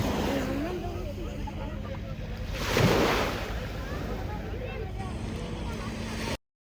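Ocean waves wash onto a beach as a broad steady roar, with one louder surge breaking midway, under wind and faint voices.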